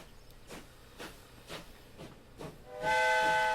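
A train in the Transport Fever game sets off: a few soft rhythmic chuffs at steady intervals, then a loud sustained whistle-like hiss with tonal harmonics rising to close, with no talking.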